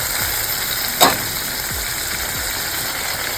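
Bombay duck fish cooks in a pan, a continuous low sizzle and bubbling hiss with a single sharp clink near the start and no voices.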